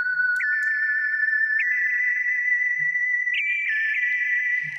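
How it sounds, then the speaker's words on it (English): A synthesized whistle lead drenched in very wet Serum reverb with a short decay, holding a steady bright tone with small pitch bends and repeating delay-like echoes, loud and continuous with no voices. "You can hear that the Serum reverb has a sort of like a delay sound."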